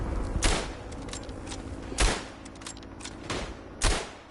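Sporadic single rifle shots in the WW1 game Tannenberg, three or four sharp distant cracks spaced a second or two apart over a low battlefield murmur.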